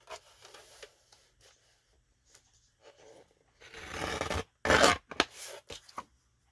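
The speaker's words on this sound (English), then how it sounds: "I might have to trim it just a little bit." A paper bag tag is trimmed with scissors. Soft scattered rubbing and handling noises lead into a few louder, close crinkling snips near the end.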